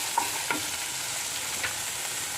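Steady, close sizzle of a tempering frying in a pan with salt added, for a drumstick-leaf (moringa) tempering, with a few faint stirring clinks over the continuous hiss and no voices.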